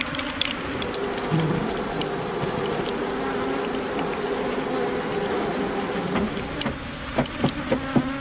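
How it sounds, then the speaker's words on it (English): A dense, continuous buzz of many honey bees swarming close by around stacked hive supers on a trailer, steady throughout, with a few faint knocks and taps toward the end. "The supers are carefully stacked on the trailer after most of the bees have been given time to return"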